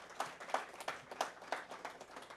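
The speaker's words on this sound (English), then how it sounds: "Give her another big round of applause, please" A small audience at an internet governance forum claps for an award recipient, a faint, sparse round of individual hand claps in an uneven rhythm, heard at a distance.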